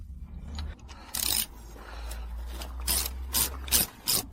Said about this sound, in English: I'm just going to clean the crank pin properly